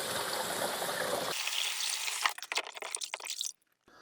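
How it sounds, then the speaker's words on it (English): Water rinses resin off a freshly made 3D print, a steady close hiss of running spray that cuts out, then gives way to uneven splashes and drips before stopping. "So just keep rinsing the resin away here."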